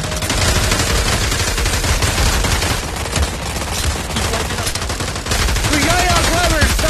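Dense, continuous gunfire in the multiplayer VR shooter Pavlov VR, a loud barrage of rapid automatic bursts filling the whole stretch, with a few rising whistling tones near the end.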